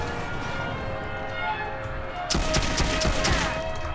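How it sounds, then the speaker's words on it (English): Rapid gunfire in the video game Saints Row IV, a dense burst of fast shots that starts abruptly partway through over constant loud game sound. "I can actually shoot quite fast with this gun"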